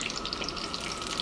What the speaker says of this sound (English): We're going to fry the eggplant, the potato